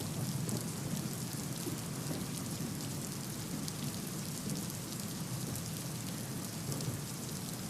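Heavy monsoon rain falling in Pune, a dense steady hiss of rain on surfaces with a low rumbling undertone, continuous and even from start to finish with no talking.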